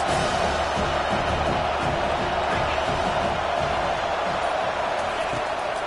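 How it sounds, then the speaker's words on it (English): Stadium crowd at a college football game, Georgia Southern at Georgia Tech, roaring steadily and loudly on a big third down, a dense sustained wall of cheering and shouts with no pause throughout. "Big third down as the crowd gets behind this defense."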